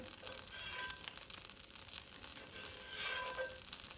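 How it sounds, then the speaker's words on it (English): Butter melts and sizzles in a pan with a little olive oil in a home kitchen, a continuous close crackling hiss that swells briefly near the end. "I'm putting a little butter in here"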